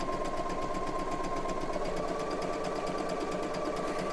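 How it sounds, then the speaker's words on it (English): A sewing machine runs a zig-zag stitch through knit fabric at medium speed, a fast, even mechanical rattle that is quiet and close, with no voice over it. "Okay, and now I'm going to stitch,"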